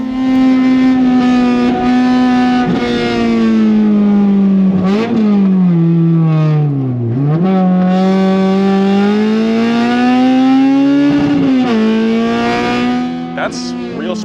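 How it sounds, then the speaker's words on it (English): A modified Honda Civic laps the Streets of Willow track, its engine a loud, close, buzzing drone that rises and falls through gear changes and braking, with a few brief dips and sharp shifts along the way. "We're gonna run some laps here at Streets of Willow"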